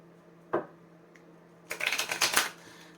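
Oracle cards are handled up close: one soft tap, then a quick run of crisp riffling flicks as the deck is shuffled, over a faint steady hum.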